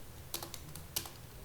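Quiet close computer keyboard typing, a handful of irregular light key clicks over a second and a half with no talking.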